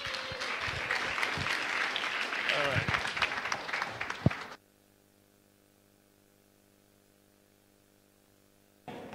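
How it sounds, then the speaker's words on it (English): A chapel congregation applauds loudly and steadily for about four and a half seconds before the clapping cuts off, leaving a quiet hum of room tone until a noise returns near the end. "Sha, if I say you should applaud, you applaud."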